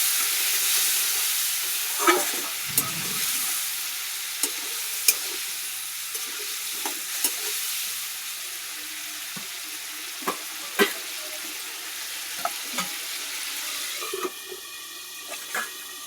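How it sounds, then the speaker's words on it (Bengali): Spiced masala with a splash of water being sautéed in a pan for a raw-banana kofta curry: a steady close sizzle, broken by sharp scraping stirs every second or two. No talking. "জল দিয়ে আমি এটা একটু কষিয়ে নিলাম।"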